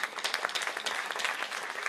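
Dense applause from an audience at a town hall speech honoring a consul and his wife, a steady wash of many hands clapping at close range with no voices over it.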